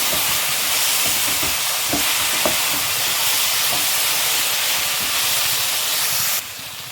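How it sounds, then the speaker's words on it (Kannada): Okra (ladies finger) frying in a pan with tamarind stirred in, a loud continuous sizzle and hiss with soft scraping strokes of the spoon, no talking, the sizzle dropping slightly at the end. "ಹುಳಿ ಹಿಂಡ್ಕೊಂಡಿದ್ದೀನಿ ಇವಾಗ ಸೇರಿಸಿ ನೀಟಾಗಿ ಮಿಕ್ಸ್ ಮಾಡ್ಕೊಳ್ಳಿ"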